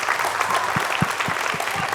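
Audience applause in a Tamil TV debate studio, steady dense clapping throughout at moderate level with a faint voice underneath.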